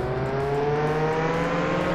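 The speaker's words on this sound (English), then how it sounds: "Dude, I love the sound effects for the cars in this game." A car engine in the Roblox game Jailbreak hums steadily with a slowly rising pitch, smooth and synthetic-sounding, like an engine accelerating.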